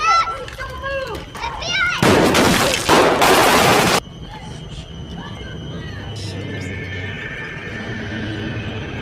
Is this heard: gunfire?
yes